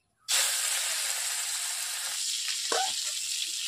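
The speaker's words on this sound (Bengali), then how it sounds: "মাছের আঁশটাকে আমি ভালো করে ভেজে নিচ্ছি।" Fish scales drop into hot oil in a pan and burst into a loud, sustained frying sizzle that holds steady, with a brief clatter of movement near the end.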